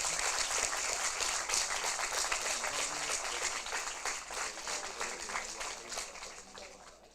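Audience at a regional student model European Parliament session in Sassari claps after a resolution announcement, a fairly quiet but dense patter of many hands that gradually fades toward the end.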